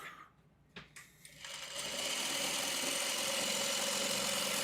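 Sewing machine stitching quilt pieces late at night, starting after a few soft handling knocks and then running as a continuous whirring, mechanical buzz that holds steady and fairly close.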